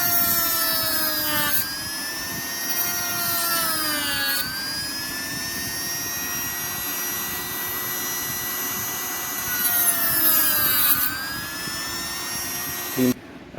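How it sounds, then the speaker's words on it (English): A small Dremel rotary tool whines at a high pitch, its tone sagging and recovering as the spinning cut-off wheel bites into PVC pipe, loud and close. "Cutting saw, cut off saw. This is a piece of PVC pipe."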